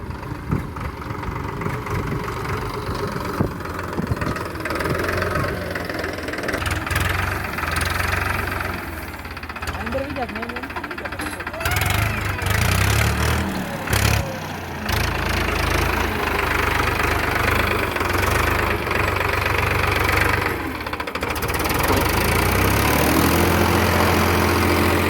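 A tractor engine that was stuck in mud runs steadily with a rough, knocking idle and a heavy low rumble, loud and close and continuous, rising slightly toward the end.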